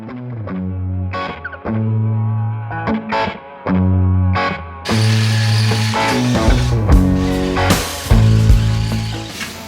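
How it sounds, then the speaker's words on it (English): Metal pieces being cut with a power tool, loud and close, in a series of harsh grinding bursts with short pauses, growing louder and rougher in the second half, no voices. "Let's cut some pieces of metal"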